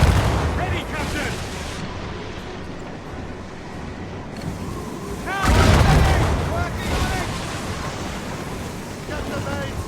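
Ship cannons fire in a naval battle in Assassin's Creed Rogue, heavy booms bursting repeatedly over a rumbling sea-battle din, with crew shouting orders throughout.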